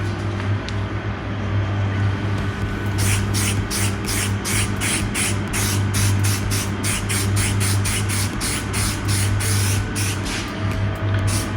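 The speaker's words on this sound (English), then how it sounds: "You get a bit of primer on this bit here as well. I think we'll do that now." Primer sprayed from a can onto MG ZS car body panels: a steady run of short, loud hissing bursts with brief gaps, close by, over a constant low background hum.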